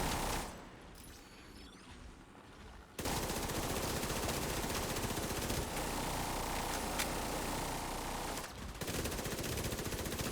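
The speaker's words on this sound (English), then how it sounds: "So when I'm shooting at it with my P90, the damage increases significantly." P90 submachine gun firing in a video game: a long, continuous, loud burst of rapid shots starting after a quiet opening, with one short break near the end before the firing resumes.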